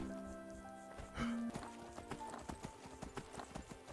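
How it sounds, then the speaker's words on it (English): A horse gallops in the video game Skyrim, its hooves clopping in a fast, steady rhythm, with a brief neigh partway through, all fairly faint. "I just ran that guy on my horse"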